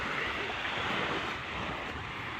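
Ocean waves wash steadily onto a beach crowded with jellyfish, a broad continuous surf roar mixed with wind noise on the microphone, with no talking.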